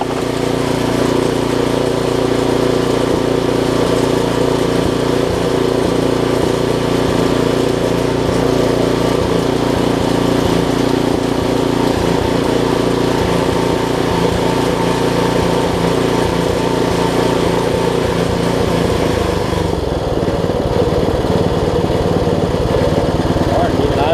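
A Briggs & Stratton 5hp flathead engine on a tiller runs close by with a loud, continuous chugging drone, and its tone shifts slightly near the end as it idles down.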